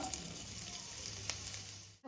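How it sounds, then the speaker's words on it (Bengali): Garlic frying in a small amount of oil in a wok gives a steady, close sizzle that runs without pause for about two seconds, then cuts off abruptly. "রসুনটা হালকা একটু ভাজা হবে"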